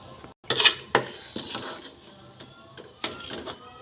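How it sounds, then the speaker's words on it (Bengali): A utensil stirs milk puli pitha and date palm jaggery in a metal pot, giving close, irregular scraping and clinking knocks with a few sharper hits over about four seconds. "খেজুরের গুড়টাকে দিয়ে ভালো করে আমি নেড়ে চেড়ে দেবো"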